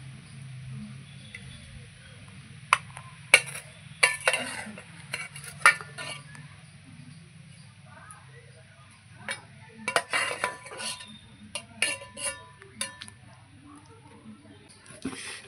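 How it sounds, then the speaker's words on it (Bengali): Boiled potatoes being mashed with a ladle on a plate while making aloor chop, heard as scattered scraping and tapping knocks of metal against the plate, with clusters of sharper clicks near the start and again later, close and fairly quiet. "আমি হাতাটা দিয়ে আলুটা ভেঙে নিয়েছি এইভাবে।"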